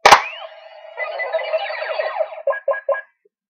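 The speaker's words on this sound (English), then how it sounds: "Got an error sound." Power Rangers Megaforce Gosei Morpher toy plays its error sound: a sharp electronic burst, a warbling synthetic fanfare, then three short descending beeps, loud and alone.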